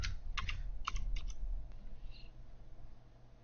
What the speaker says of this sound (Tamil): எம்பரர் அப்படின்னு நான் டைப் பண்ணுறேன்.